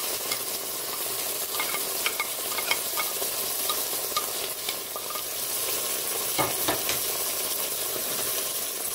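Pork chops with a tomato and mustard mixture are stirred in a Cookeo multicooker: a steady frying sizzle and hiss runs throughout, with light scrapes and knocks of the utensil against the pot, close by and with no talk.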